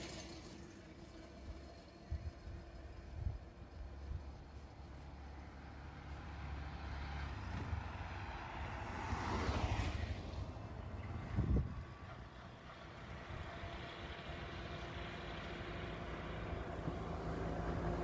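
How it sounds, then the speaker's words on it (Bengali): Vehicles passing now and then on a quiet stretch of the Dhaka–Sylhet highway under construction: a low rumble rising and fading as one heavy vehicle goes by mid-clip, with distant traffic hum before and after, heard from the roadside. "মাঝে মধ্যে গাড়ি আসে, শব্দ হয়।"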